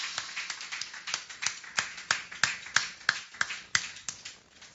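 A church congregation applauding as their pastor arrives, a steady run of sharp, evenly spaced claps close by, with no talking.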